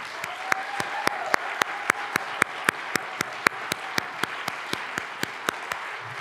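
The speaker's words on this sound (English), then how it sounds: "please join me in a final round of applause for our medalist, our moderator, and our distinguished speakers" An audience at a Radcliffe Day medal ceremony claps together in a slow, even, rhythmic beat, with sharp regular claps over a softer background of applause.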